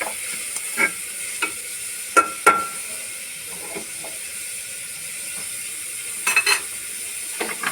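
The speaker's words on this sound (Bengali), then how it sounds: "গাজরটাকে ভালো করে ভেজে নেব।" Carrots frying in a pan for carrot halwa, a steady soft sizzle with scattered scrapes and clinks of stirring, close but fairly quiet.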